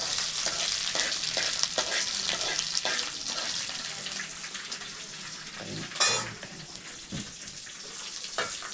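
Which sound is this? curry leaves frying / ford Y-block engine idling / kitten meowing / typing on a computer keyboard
curry leaves frying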